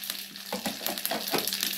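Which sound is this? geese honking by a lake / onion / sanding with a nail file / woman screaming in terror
onion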